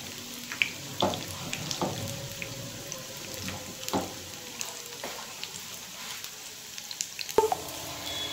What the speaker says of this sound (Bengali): এর মধ্যে যে কটা ধরলো এই কটা আমি আগে ভেজে তুলি, তারপরে বাকিগুলো ভেজে নেব।